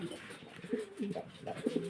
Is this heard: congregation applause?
no